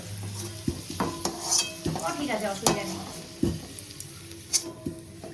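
Vegetables such as potato and eggplant fry in a pan at home, giving a steady sizzle with stirring scrapes and clinks while people talk nearby.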